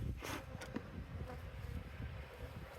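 Agitated honeybees buzz steadily and close by while a nuc is moved into a Langstroth hive, with a dense droning hum and short louder swells as bees pass near.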